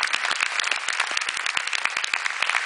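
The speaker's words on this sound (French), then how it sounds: "Vos applaudissements" Audience at an award ceremony clapping for a prize recipient: dense, brisk applause from a modest crowd, continuous and fairly loud with crisp individual hand claps throughout.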